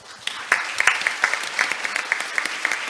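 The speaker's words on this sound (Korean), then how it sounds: "박수로 맞이해 주시기 바랍니다" Conference audience clapping to welcome a session chair at an international development forum, a short burst of steady, moderately close applause that holds through the clip.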